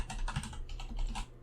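Rapid clicking of computer keyboard keys as a command is typed at a terminal, a steady run of light taps close up with no talking.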